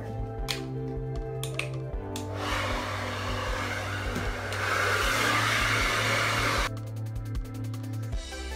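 A hair dryer runs steadily while thick hair is brushed out and blow-dried, its loud continuous whoosh swelling and dipping as it is moved around, with brief pauses and faint brush strokes between passes.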